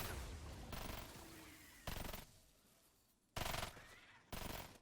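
The Dirge weapon in Fortnite Save the World fires four separate, loud, booming blasts with pauses between them, each shot ringing out alone.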